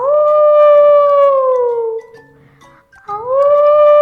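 A voice imitates a wild dog howling on a quiet night: two loud, close, drawn-out howls, the first long and falling, the second rising after a short pause.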